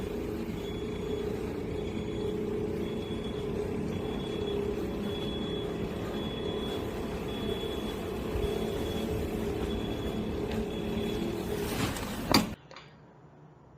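A small autonomous model car drives forward with a steady low motor hum and rolling noise, an even drone that runs without a break before ending abruptly in a short knock and near silence.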